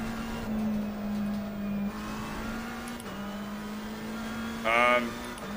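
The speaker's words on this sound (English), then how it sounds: "Tire scrubbing." Sim racing game car in a driving game, a steady mid-pitched engine drone with tires scrubbing as they lose grip, a short louder whine near the end.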